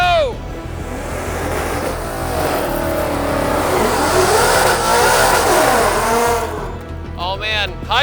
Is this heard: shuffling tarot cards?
no